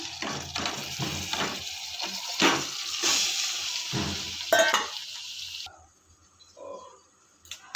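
Chicken pieces frying in a pan for gongura chicken curry with ginger-garlic paste, a steady loud sizzle broken by stirring scrapes, then the hiss drops away to near quiet.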